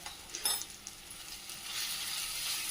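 Spices sauté in a pan for a cauliflower curry, with a faint, soft sizzle and a few light stirring taps that settle into a steady low frying hiss.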